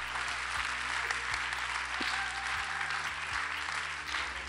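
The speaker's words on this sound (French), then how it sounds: "Bravo, on peut l'applaudir à nouveau." Sustained audience applause at a French song award evening, a dense even wash of many hands clapping steadily throughout without letting up.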